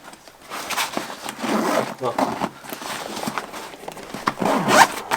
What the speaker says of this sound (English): So now I'll go ahead and zip this side up